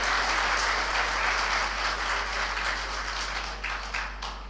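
Sustained audience applause fills the hall at a political rally, a dense steady wash of many hands clapping that holds loud throughout and eases slightly toward the end.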